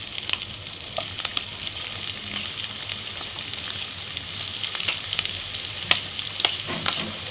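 Onion frying in a generous amount of oil for a Konkani-style oyster fry, a close steady sizzle with frequent spatula scrapes and taps against the pan.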